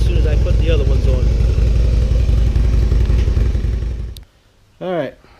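Motorcycle engine idling through stock exhaust mufflers, a steady low rumble for about four seconds before cutting off, then a brief burst of voice.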